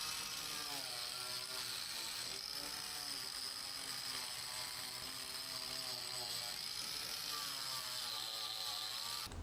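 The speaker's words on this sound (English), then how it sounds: "I'm going to take a wire wheel and hit up the rust spots" A wire wheel grinds rust off the fender of a VW convertible, making a steady, continuous high mechanical whine with a droning hum and slight wavering in pitch throughout.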